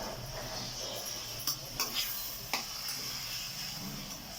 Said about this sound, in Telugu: ఈ టమాటాలు రసం వచ్చేంత వరకు దీన్ని ఉడికించుకుందామండి నూనెలో.